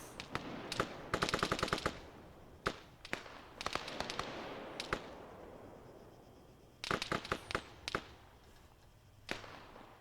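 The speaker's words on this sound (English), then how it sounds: "Assuming those are enemy grenades coming in." Enemy grenades and gunfire in the military video game ARMA 3. Sharp cracks come in rapid bursts and scattered single reports, with clusters of quick automatic fire, some near and loud and some fainter in the distance.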